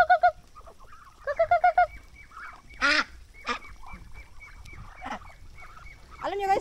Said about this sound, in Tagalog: Ito yung mga Muscovy duck at saka whistling duck. Yung gray whistling duck.